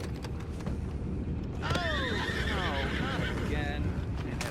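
Horse neighing in the video game Red Dead Redemption 2, a loud drawn-out whinny rising and falling over hoof clip-clops and background ambience, with a voice talking beneath.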